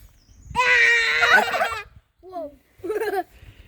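A male turkey among the fowl gives a loud, close, warbling gobble, followed by two shorter, quieter calls after a pause.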